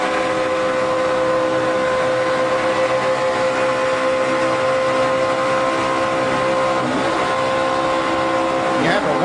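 NASCAR Nationwide Series stock cars running on throttle in a tight drafting pack, a loud continuous engine roar with steady harmonic tone throughout and a rising whine near the end.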